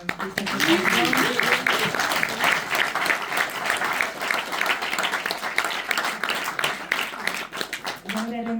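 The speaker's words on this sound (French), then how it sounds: "encore un applaudissement pour cette occasion" An audience in a Paris cinema applauds a Hungarian film director's honour, sustained, even clapping from a full room that tapers off at the end, with a voice briefly audible at the start and close.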